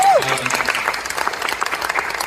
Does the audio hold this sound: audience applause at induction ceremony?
yes